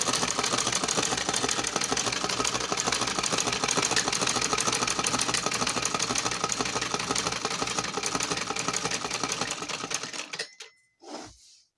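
Sewing machine stitching a cloth face mask, running steadily with a fast, rattling mechanical whir for about ten seconds before stopping, loud and close, followed by a brief soft rustle.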